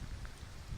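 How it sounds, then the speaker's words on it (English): Steady rain falling outside a London library, a soft continuous hiss that stays constant and moderately quiet throughout, with no voices. "Outside, rain continues."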